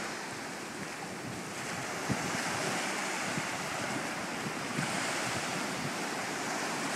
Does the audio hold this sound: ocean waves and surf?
yes